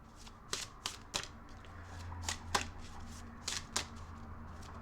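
Tarot cards are shuffled by hand with a series of crisp riffles and slaps, close and fairly quiet, over a low background hum.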